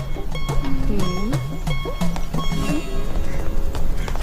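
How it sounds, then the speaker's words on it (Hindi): A horse gallops close by with rapid clip-clop hoofbeats in a movie scene, alongside a horse's whinnying and loud background music. "घुड़सवारी अच्छी कर लेते हो"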